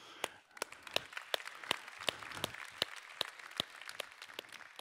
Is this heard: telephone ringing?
no